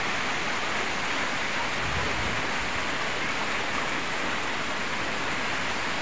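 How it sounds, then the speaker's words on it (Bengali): Heavy rain falling outdoors, a dense, loud, unbroken hiss of drops that fills the whole stretch with no pauses or voices. "আর সকাল থেকে বৃষ্টি হইতেছে, এখনো কমে নাই।"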